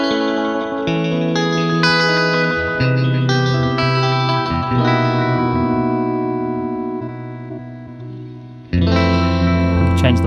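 Electric guitar running through a Line 6 DL4 MkII delay pedal set to echo mode, sustained chords and arpeggiated notes with repeating echo tails, swelling and thinning before a fresh loud strum near the end, no talking.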